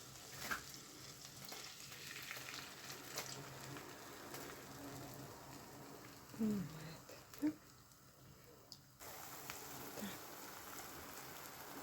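Omelette mixture with melted butter sizzling in a hot frying pan, a soft continuous crackle with a couple of brief clatters and a voice speaking over it.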